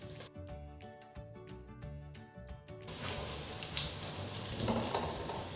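Small shallots sautéing in a pan for a tamarind plantain curry, a close steady sizzle that swells and thickens partway through, preceded by a few seconds of tonal background music.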